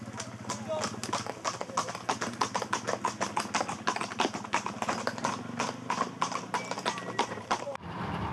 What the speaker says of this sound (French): Hermine du Tarn, c'est la jument qui est devant et qui avance très fort